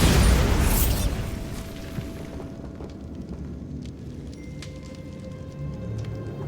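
A Bombarda spell goes off in Hogwarts Legacy with a loud, bright explosive burst at the start that quickly fades into a low rumbling tail and scattered faint debris clicks.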